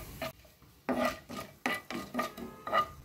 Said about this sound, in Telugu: ఒక బిర్యానీ ఆకు, 3 లవంగ మొగ్గలు, 1 ఇంచు చెక్క, ఇంకా అలానే 3 ఇలాచి, 1 టీ స్పూను జీలకర్ర వేసుకొని వాటిని ఫ్రై చేసుకోవాలి.